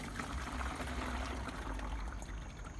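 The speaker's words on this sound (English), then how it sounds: "we're gonna carefully pour the noodles in" Water and rice vermicelli noodles pour steadily into a strainer with a rushing, splashing flow for a few seconds.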